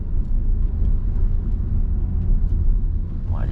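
Steady low engine rumble of a manual-gearbox car on a driving lesson, accelerating gently in second gear, a continuous smooth drone with no talk over it.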